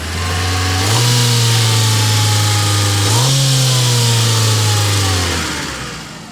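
A car engine revs up twice under light throttle while the cooling system is being burped of air, each rise holding briefly at higher speed before settling back to a steady idle, loud and close with no talking.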